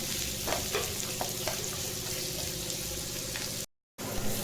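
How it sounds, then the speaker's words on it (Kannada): Onions fry in a pan with a continuous, even sizzle and crackle, heard alone at close range and interrupted by a short silent gap just before the end. "ಈರುಳ್ಳಿ ಫ್ರೈ ಆಗ್ತಾಯಿದೆ"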